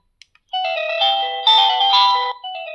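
A video doorbell chime plays a clear electronic melody of several bright tones, loud and close, preceded by two faint clicks.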